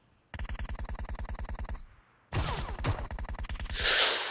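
Rapid automatic gunfire in a competitive shooter video game tournament match, a steady burst of evenly spaced shots that stops, then resumes amid clattering effects and ends in a loud hissing blast.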